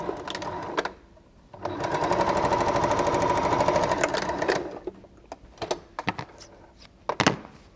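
A sewing machine stitches quilt seams in a short burst, a steady whirring run of about three seconds between scattered clicks and handling knocks.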